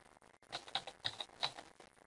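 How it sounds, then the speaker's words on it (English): Typing a few letters into a name field on a computer keyboard: a short burst of light, quiet key clicks in an uneven rhythm, close and alone. "you can just start typing a few letters of the name in the name field"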